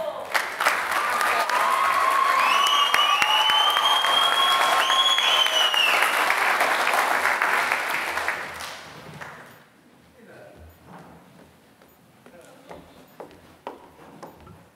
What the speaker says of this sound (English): Like, keep clapping for yourselves.